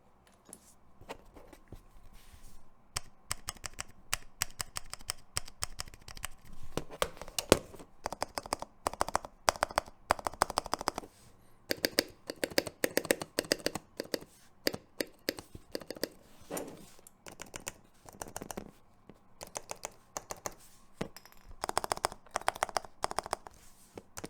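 Rapid, uneven clacking of keys on a KBDFans Blade mechanical keyboard, close and fairly crisp, with bursts of fast typing and short pauses throughout, no talking.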